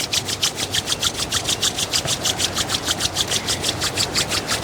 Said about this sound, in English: Now one more time, rub your hands together.